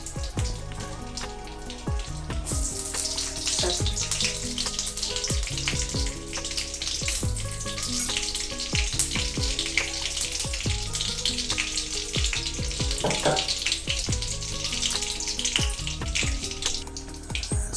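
Ghee heats in a pan for tempering and gives a steady, even sizzle and crackle. The sound is continuous and fairly loud, with no voices.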